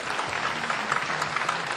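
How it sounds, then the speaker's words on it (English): A magic festival crowd gives a volunteer steady, dense applause from many hands at moderate volume throughout. "Give him another round of applause for coming up here."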